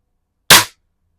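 A single sharp, loud shot from a Crosman M1 carbine air rifle, close by and clipped short, followed by silence.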